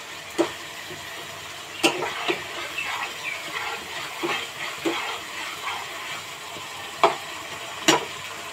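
Spice paste for a prawn curry with mustard and coconut is fried in a pan, giving a soft, quiet sizzle punctuated by occasional sharp utensil taps and scrapes.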